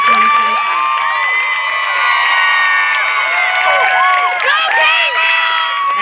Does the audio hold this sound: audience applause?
yes